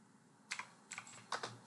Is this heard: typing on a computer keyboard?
yes